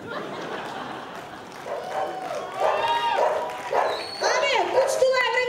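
A dog barks and yips in a few short bursts, mid-distance, over a noisy domestic background with people talking.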